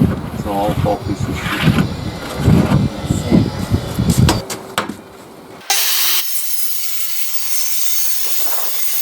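Contiboard wardrobe board pieces are cut by hand with a saw, giving a run of rasping strokes under talk for the first half, followed by a steadier hiss of noise.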